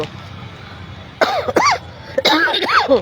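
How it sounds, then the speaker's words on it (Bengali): Dry coughing from a person with a bad cough, several harsh hacking bursts in two close clusters, loud and near over a quiet background. "কাশি দিতে দিতে গলা চিড়ে যাচ্ছে আমার"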